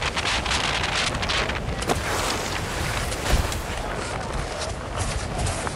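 Strong wind roars steadily across the microphone while speedriding in the Alps, a dense gusting rush that stays loud throughout with brief voices mixed in.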